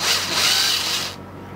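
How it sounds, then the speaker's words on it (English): A power drill bores into a 3D-printed PLA part, giving a close, loud whirring grind for about a second before it cuts off to quiet. "if you drill in one go, then you probably heat it up too much"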